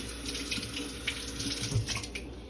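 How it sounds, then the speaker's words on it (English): Chives are rinsed under a running kitchen tap, a continuous strong rush of water into a sink with small splashy variations as the leaves are moved through the stream, no voices present. "So we're gonna wash it in our vinegar water, then rinse."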